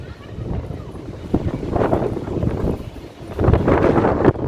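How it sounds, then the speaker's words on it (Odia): Strong gusty wind buffets the microphone on a seaside walk at Digha, rising and falling in loud rumbling surges, with a voice speaking over it. "ଆରେ ମୋତେ ପବନ ଠେଲି ନେଇଯାଉଛି"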